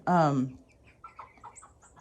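Bielefelder chickens in a coop give one loud, close squawk followed by a run of quieter clucks and short calls.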